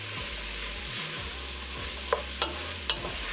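Vegan chili with spicy chipotle vegan sausages being stirred in a pan, with a steady sizzle under several scrapes of the spoon and a few sharper clinks near the end.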